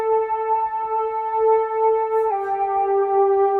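A bright synthesizer lead holds one steady, clear note, then drops to a slightly lower pitch and sustains it. No other sounds.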